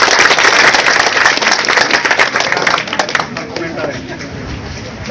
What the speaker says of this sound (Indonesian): Tepuk tangan buat narasumber.